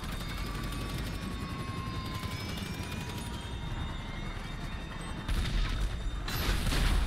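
Helicopter in the video game GTA during a heist mission, a steady rotor drone running throughout with game noise, growing louder and harsher near the end.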